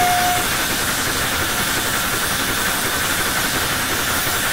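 A steam locomotive in Train Simulator 2018 gives off a continuous, even hiss of steam at steady loudness, with a faint engine rumble beneath and no talking.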